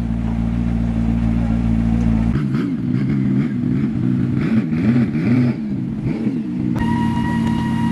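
A supercar engine revs up and down in several sharp bursts, loud and close, then settles into a steady higher whine, leaving a car show.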